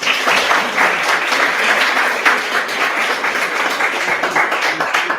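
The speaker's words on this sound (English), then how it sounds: "one more round of applause for all those founders that we had and online" Loud, sustained applause from a live audience cheering a lineup of startup founders at a pitch event, dense steady clapping filling the room throughout.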